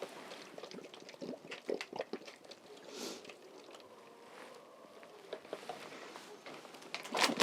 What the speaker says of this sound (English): I'm just going to pour the warm water in here and let it absorb